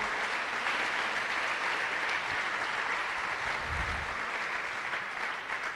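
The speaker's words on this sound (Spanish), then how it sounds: "¿Por qué no le da un aplauso a nuestro Señor?" A church congregation applauds throughout a Sunday service, the clapping dense, steady and fairly loud from start to finish with no one talking over it.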